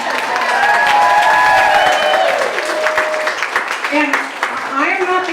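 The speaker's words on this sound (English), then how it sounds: "you should applaud that" Audience applause and cheering at a campaign event for a county supervisor candidate, loud clapping that swells early then thins out as a voice begins talking over the tail end.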